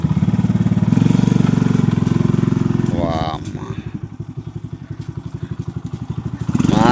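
A farm vehicle's engine is started and runs with a steady low rumble, loud and close. It drops to a faster chugging beat partway through and swells again at the end, while people talk over it.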